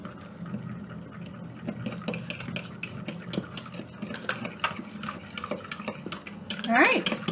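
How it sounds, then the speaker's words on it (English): A spoon stirs vinegar into milk in a container, giving soft, repeated scraping and clinking taps, fairly quiet, with a brief voice-like sound near the end. "we're just going to stir that up a little"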